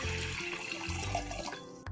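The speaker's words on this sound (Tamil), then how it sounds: "கப்பில் அரிசி எடுத்தோமோ அதே கப்பில் 4 கப் அளவு தண்ணி ஆட் பண்ணிக்கலாம்." Water is poured into a cooking pot to make urad dal porridge, a continuous splashing stream that stops abruptly near the end.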